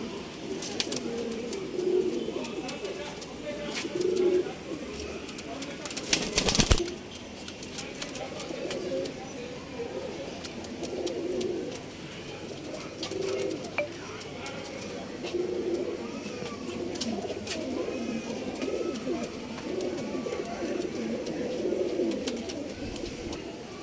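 Pigeons and doves offered for sale at a bird market in RT Nagar, Bangalore, cooing steadily and softly throughout, several birds overlapping at moderate distance with a brief loud clatter partway through.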